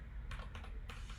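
Typing on a computer keyboard while entering a new digital twin type in software, a quick run of soft key clicks in a few short bursts, close and quiet with no speech.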